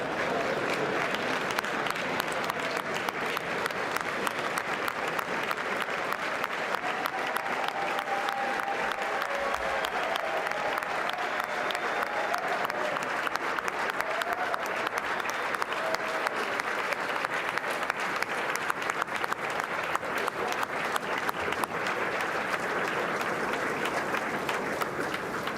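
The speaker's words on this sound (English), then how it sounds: "that is the first lady they were clapping for there" Steady, sustained applause from a large audience in the chamber for the first lady at the 2023 State of the Union, a dense wash of clapping heard from a distance, continuous and even for the whole stretch.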